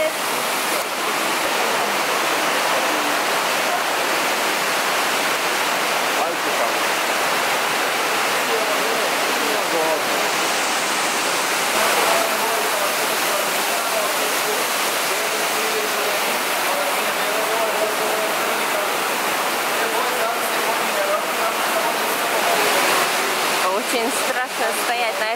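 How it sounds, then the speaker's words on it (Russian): Water rushing in a strong stream beneath a metal grate inside Stopica Cave, a continuous loud, close churning roar with little change across the whole stretch. "Очень страшно стоять на этой решетке, когда вода под ногами потоком бурлит."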